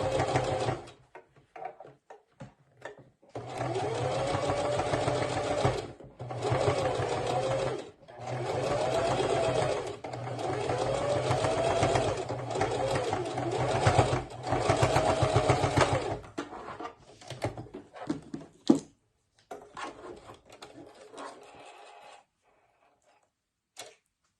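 Sewing machine running a stitch across the top of a fabric face mask, a steady close rhythmic whir in several long runs broken by brief pauses, ending with a few clicks and handling noises.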